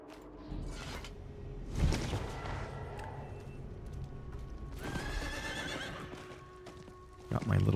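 A horse mount in the video game Diablo 4 gives a loud whinny, with clip-clop hooves and whooshing game effects around it, while someone talks over the sounds.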